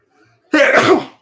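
A single sharp sneeze bursts out after a moment of near silence, loud and close, trailing off quickly.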